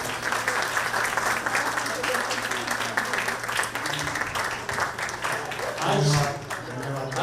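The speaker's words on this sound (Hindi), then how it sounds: "जोरदार तालियां प्लीज।" An audience at an annual day celebration applauds loudly and continuously, the dense clapping running throughout with voices mixed in beneath it.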